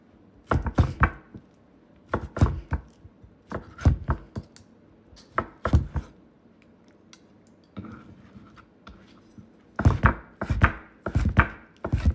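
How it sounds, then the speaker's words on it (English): Knife chops on a wooden board while food is sliced for a crispy rice sushi stack, heard as close, crisp rhythmic bursts of several quick cuts separated by short pauses, with no talking. "when you're slicing things, hold your knife"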